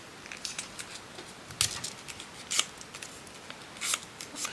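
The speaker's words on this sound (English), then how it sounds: "take my scissors" Scissors snipping through paper while adding pockets to a handmade journal, a few quiet crisp cuts spaced irregularly over a faint background.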